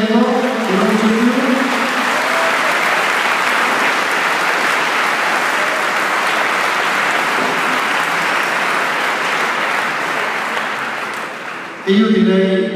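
Sustained applause from a gathered crowd at a company's 50th anniversary celebration, honouring a late employee; dense, steady clapping runs for about eleven seconds, fades slightly, then a voice speaks over it near the end.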